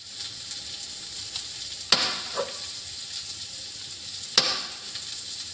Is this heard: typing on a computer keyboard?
no